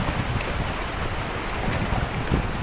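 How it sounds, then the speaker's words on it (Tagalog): Big ocean waves crash against a rock formation at Pagkilatan, Batangas City, a dense continuous rush of surf mixed with heavy wind buffeting the microphone. "Guys, kita ninyo ang alon, no?"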